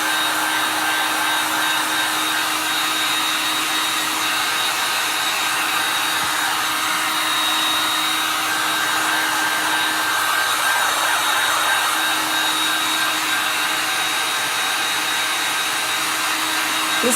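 Dryer blowing on a freshly applied transfer to dry it, a loud steady whooshing hum that continues unbroken throughout with no talk.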